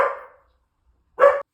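Pet dog Rue barks twice indoors, a loud close woof at the start and a second sharp bark after a pause of about a second.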